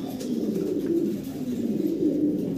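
Lahori pigeons cooing continuously in a close, steady series of low, throaty rolling coos with no talk over them.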